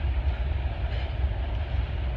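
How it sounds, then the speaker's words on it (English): A train passes in the background as a steady, continuous low rumble with a faint rolling clatter, constant in level throughout, with no voices. "That train in the background,"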